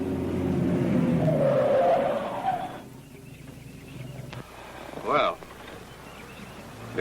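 A car roars past at speed with a rising engine note and a brief tire skid, then fades, leaving a short squealing burst and quieter background afterward.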